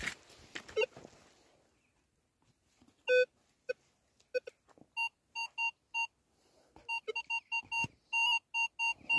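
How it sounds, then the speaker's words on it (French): Out in the field, a metal detecting pinpointer gives a string of short electronic beeps, irregular at first and then coming in quicker bursts, after some soft rustling and scraping of digging. "Alors, on va prendre le pinpointer. On va regarder déjà si c'est sorti."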